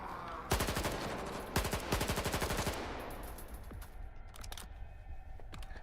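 Gunfire in the video game S.T.A.L.K.E.R. 2 on PS5: two loud bursts of rapid automatic shots, each lasting about a second, followed by quieter scattered sounds and faint background ambience.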